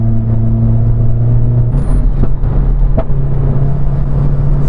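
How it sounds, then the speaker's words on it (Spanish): Renault Clio RS Trophy engine fitted with a downpipe, running in Sport mode, gives a steady loud low rumble with a brief shift in pitch partway through, heard from inside the car with no talking. "Tenemos el coche con downpipe ahora mismo y se nota el sonido."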